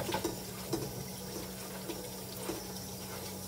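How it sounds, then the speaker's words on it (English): Running water rinsing cut sweet potato fries in a kitchen sink, a steady stream with faint clinks and splashes on top, close and constant. "I'm rinsing off these sweet potato fries"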